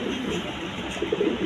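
Pigeons coo in a steady, murmuring chorus from a breeding flock of mated pairs, soft overlapping calls close by with no talking.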